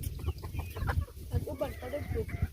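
Farm chickens clucking near and far in short, irregular bursts, with low rumbling background noise throughout.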